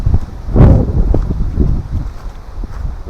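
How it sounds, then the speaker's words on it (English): Wind on a city nature trail in November, a broad gusting rush buffeting the microphone with a strong swell near the start and then a steady blustery roar. "It's pretty windy,"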